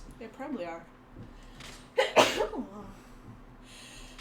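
A single sharp, loud sneeze bursts out between stretches of quiet conversation, with a voice speaking briefly before it.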